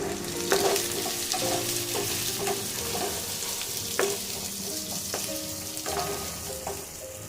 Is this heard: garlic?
yes